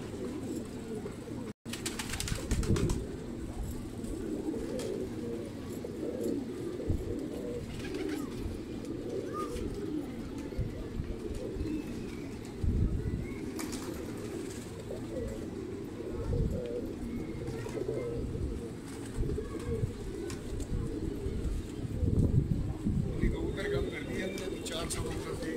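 A flock of pigeons coos steadily and close at a loft for about half a minute, with wings shuffling and someone talking at times over the soft continuous cooing.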